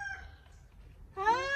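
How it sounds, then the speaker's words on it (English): A rooster on a farm homestead crows nearby near the end, after a quiet stretch of faint background sound. "The rooster!"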